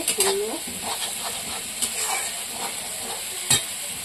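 Spice masala fries in oil in a pan with a steady crackling sizzle and repeated scraping stirs. A faint voice sounds briefly in the background.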